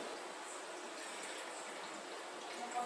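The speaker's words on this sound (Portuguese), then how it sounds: "Primeiro a gente vem acrescentando a água." Water being poured into a container for a simple experiment makes a steady, faint rushing trickle that continues evenly throughout.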